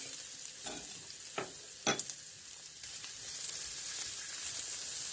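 Chopped sucuk sausage sizzles and crackles in hot butter in a pan, with a few sharp scrapes of stirring near the start.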